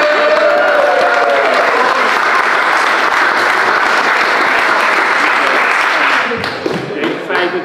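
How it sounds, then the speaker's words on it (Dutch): Loud, sustained audience applause with some crowd noise at a ceremony honouring a couple from Laren with a merit award, dense clapping that tapers off near the end as a voice begins. "Applaus."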